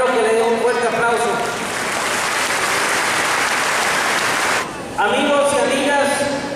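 Loud applause fills the hall at the swearing-in ceremony for the municipal president of Villaflores. Dense clapping runs throughout with music playing underneath, dips briefly near the end and then resumes.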